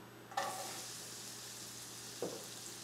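Sliced onion sweating in a hot pan gives a steady, fairly loud sizzle that fills the whole stretch, broken by two brief scrapes or clatters, close by with no speech.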